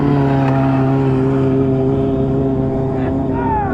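A motorcycle engine idles steadily at a stunt lot, a loud, even, low rumble that carries on without a break, with a faint rev rising near the end.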